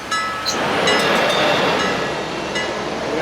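A hop-on hop-off tour train in Noumea rumbles past in a steady broad roar with faint squeals and rattles, fairly loud and unbroken throughout.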